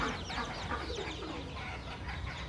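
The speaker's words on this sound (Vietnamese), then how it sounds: "ông bé Sáu đã nuôi thử nghiệm gần 100 con gà các loại và dùng dế cho gà ăn hàng ngày" Farm chickens, a flock of about a hundred mixed breeds raised on crickets, cluck and murmur together in a steady, fairly quiet chorus, with no voices.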